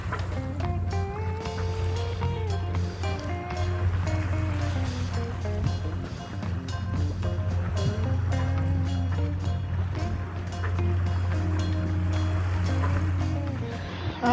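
A small sailboat with a new jib moves across choppy water with a steady low engine-like drone, water rushing and splashing along the hull and wind noise, continuous and close.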